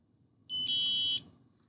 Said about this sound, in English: So I just beeped that middle C for 1 beat.